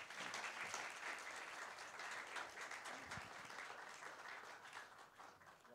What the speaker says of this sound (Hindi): तालियों में कोई कंजूसी नहीं होनी चाहिए।